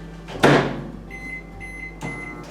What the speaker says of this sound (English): I'm going to start putting them in the microwave for 30 seconds.